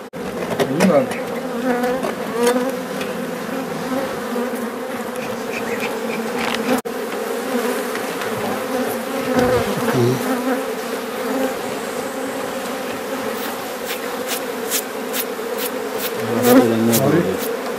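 Dense, continuous buzzing of many honey bees up close at an organic apiary in Bingöl, droning steadily with occasional louder passes near the microphone.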